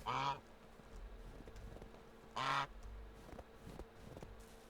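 Geese in the Medieval Dynasty video game honk twice, each a short harmonic burst a couple of seconds apart, over a low steady ambient bed.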